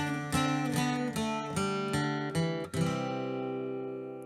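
Acoustic guitar plays the third section of the folk tune Paddy's Green Shamrock Shore, with about six plucked notes and chords in a steady, ringing rhythm, the last chord left to sustain and fade, close and clear with no talk.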